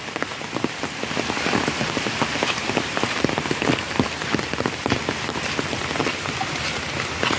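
Monsoon rain falls steadily in a Sundarbans village, a dense, continuous hiss of drops pattering on surfaces with scattered louder splashes, close and unbroken throughout with no voices.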